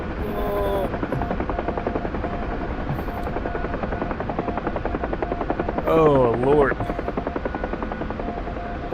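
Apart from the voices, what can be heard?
helicopter flying in a video game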